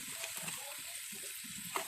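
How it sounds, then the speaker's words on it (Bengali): Soft, steady sizzling of onion, garlic and chillies frying in hot oil in a wok, with faint stirring scrapes now and then. "এখন আমি প্রথমে পেঁয়াজ আর রসুন মরিচগুলো দিয়ে দেবো এগুলো সুন্দর করে ভেজে নেব"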